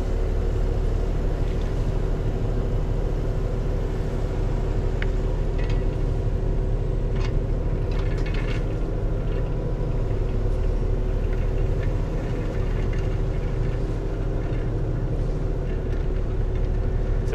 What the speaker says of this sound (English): we'll increase engine revs as the Traktor needs more power to maintain that forward speed